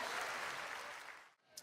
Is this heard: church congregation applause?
yes